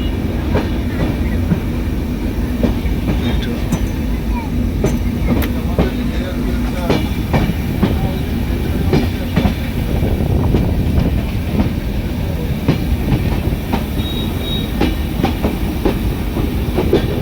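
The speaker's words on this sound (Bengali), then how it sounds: "ট্রেন ছেড়ে গেছে" Rumble of a moving passenger train bound for Khulna, Bangladesh, with rhythmic clickety-clack of wheels over rail joints, steady and close, with wind buffeting the microphone.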